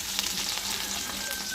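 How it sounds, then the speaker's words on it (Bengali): Nigella seeds, dried red chillies, onion and garlic spit and crackle in hot oil, a steady dense sizzle with faint stirring running through it, close and fairly loud. "আবার তেল দিয়ে দিলাম, কালো জিরা, শুকনো লঙ্কা দিলাম, আর পেঁয়াজ,"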